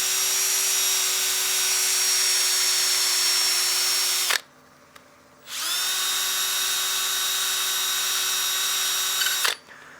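Power sander with a 400 grit disc running on a wood platter, a loud continuous whine that stops for about a second and then starts again at full steady pitch.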